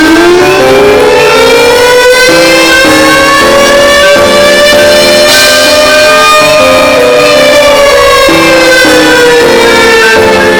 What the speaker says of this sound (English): He hears the siren